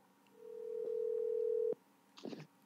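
A telephone dial tone while a call is placed, a single steady tone held for over a second and then cut off, followed by a brief faint burst of sound.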